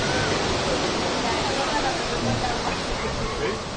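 Ocean surf on a Mexican shore gives a constant broadband wash of rushing water, loud and close, with no clear breaks between waves across the whole stretch.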